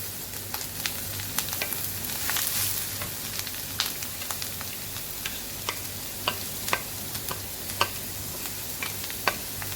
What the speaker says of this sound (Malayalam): അതിനുശേഷം നമുക്ക് ഈ ഗ്രേറ്റ് ചെയ്ത ക്യാരറ്റ് ഇതിലേക്ക് ചേർത്ത് കൊടുക്കാം